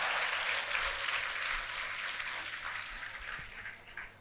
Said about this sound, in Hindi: इनके लिए खूब जोर से तालियां दो